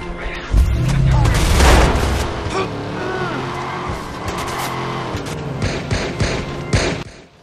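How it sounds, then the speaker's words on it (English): Gunfire aimed at the player in Watch Dogs on a busy freeway, scattered sharp shots and bursts mixed with loud car engine roar and tire noise throughout, fading near the end. "And now I got people shooting at me too."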